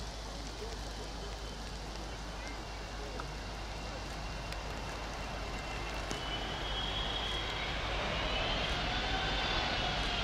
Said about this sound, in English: This plane landing in bad conditions, touched down hard.